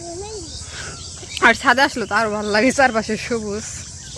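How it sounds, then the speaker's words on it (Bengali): Crickets chirp as a faint, steady high-pitched trill on a village rooftop surrounded by greenery, running under people talking nearby. "মানে রুমের থেকেও শোনা যায় ঝিঝি পোকার আওয়াজ।"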